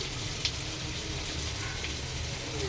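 Boiled potatoes fry in hot oil, giving a steady, soft crackling sizzle with a faint clink near the start and no voices.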